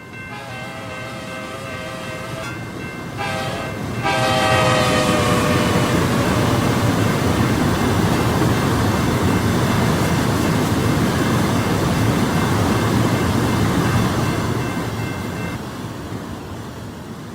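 Amtrak Talgo Cascade train speeding in the RO-Scale Sandbox video game, a brief horn blast early on, then a loud, steady rushing rumble that swells and fades near the end.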